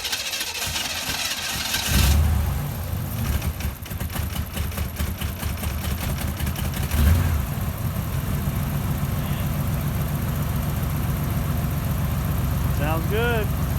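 A Corvette engine with newly replaced injectors cranks, catches and settles into a steady idle that carries on for several seconds, with faint rattling and a short whistle near the end.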